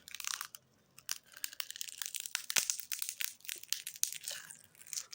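Broken glass pieces from a cracked tablet crunch and crackle in dense, close bursts, with sharp crinkling snaps running continuously and a few louder cracks, no talking.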